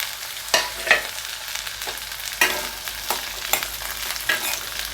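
Beans frying in oil in a kadai, a continuous hiss broken by several loud scraping stirs of a ladle at irregular intervals, close and without speech.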